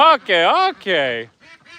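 Ducks on a homestead give loud, close, honking quacks in three bursts, with a fainter pair of calls at the end.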